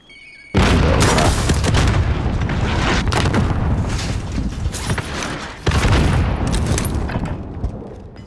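A frag grenade blast in a battle-royale shooter game, a loud booming explosion erupting suddenly after a quiet moment and rolling on with dense crackling rumble, followed by a second heavy burst partway through.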